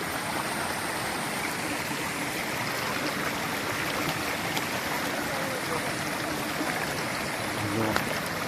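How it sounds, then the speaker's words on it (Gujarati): River water rushes at the Hathni Mata waterfall, a constant, fairly loud gushing flow with no spoken words. "આ છે નદી."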